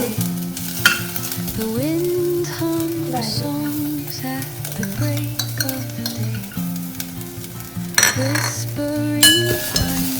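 Garlic going into fried rice in a hot pan, giving a steady loud sizzle under continuous stirring, with scraping and clinking of a utensil against the pan and a brief sharper burst of frying near the end.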